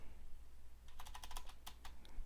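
Typing on a computer keyboard: a short burst of quick, close key clicks follows a quiet start, and then a few final taps.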